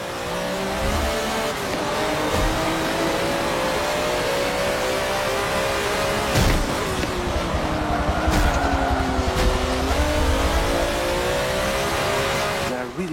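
A race car driven at Road Atlanta in the Forza video game roars through the gears, engine pitch climbing and dropping with shifts and corners, sustained and loud with brief tire squeal.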